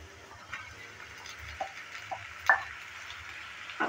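Chopped tomatoes go into a pan of frying onions for garlic fenugreek sabji, giving a steady close sizzle with soft knocks and stirring clicks scattered through it.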